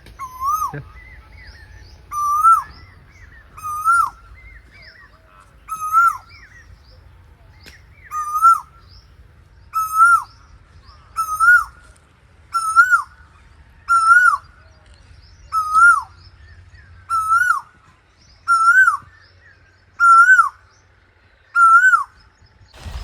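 A koel calls over and over in a village near Botad, each rising cry spaced a second or two apart, loud and clear against faint background rumble, with no talking.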